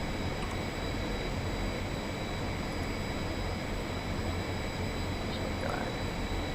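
Airbus A320 engines in AeroFly FS 2, a constant loud jet roar with a steady high whine running throughout, no pauses.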